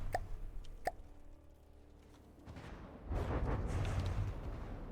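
Ship turrets fire in the naval game From the Depths: two sharp booming shots early, a quieter lull, then a rumbling burst of heavy blasts swelling and holding to the end.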